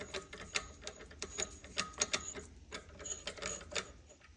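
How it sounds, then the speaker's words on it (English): DF64P coffee grinder with its burrs touching gives rapid, irregular metallic ticking and clicking, a dense run of sharp, ratchet-like scrapes, quiet and close, with no talking. "this is the burrs touching sound"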